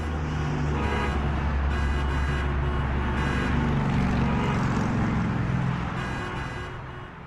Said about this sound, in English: those lovely sound of traffic and gridlock